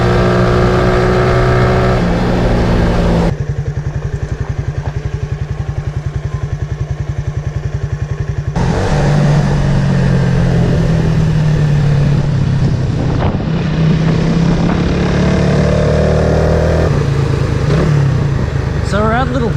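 A 2003 Suzuki FX125 small-displacement DOHC motorcycle rides along a main highway in New Zealand among cars, its engine droning steadily beneath heavy wind buffeting, with a rider talking over the noise throughout.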